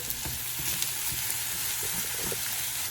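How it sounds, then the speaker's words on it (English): Scrambled egg being stirred together with fried-rice ingredients in a hot frying pan for Indonesian nasi goreng, a steady close sizzle with soft scraping and stirring strokes, no voices. "You mix all this together."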